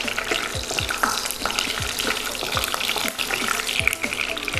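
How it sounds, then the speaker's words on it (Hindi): Whole spices, a cinnamon stick and bay leaves, sizzle in hot oil while a utensil scrapes through the pan in repeated strokes, giving a continuous close frying hiss throughout. "थोड़ा सा इसको हम चला देंगे ताकि इसके सारे फ्लेवर तेल में आ जाएं।"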